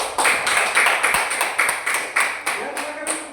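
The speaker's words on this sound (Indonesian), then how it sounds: "Tepuk tangan" A group claps hands in a series of distinct, evenly spaced bursts after a group presentation at a Ministry of Religious Affairs performance test session, fairly close and with no talking.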